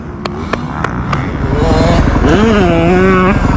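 Supercross motorcycle ridden on a slick dirt track, its engine droning steadily and building in pitch as it revs up, with harmonics sweeping upward near the end; loud and close with no talk.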